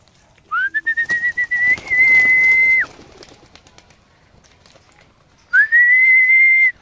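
Racing pigeons coming back to their home loft give two long, steady whistling calls, each about two seconds, with a pause between. Soft fluttering and light rustling run under the first call.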